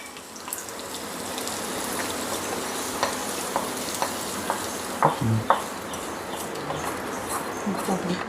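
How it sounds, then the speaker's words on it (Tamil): Anchovies are stirred and lightly sautéed in a frying pan, a steady sizzling hiss broken by a few sharp utensil scrapes and clicks against the pan, close by. "பாருங்க, லைட்டாக வதக்கிக்கிற வேண்டியதான்."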